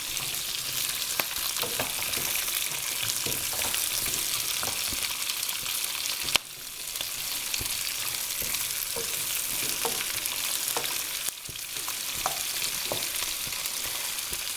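Fennel and onions cook in a full pan for a summer ratatouille, giving a steady close sizzle with scattered stirring clicks and two sharp thumps where vegetables are added or moved.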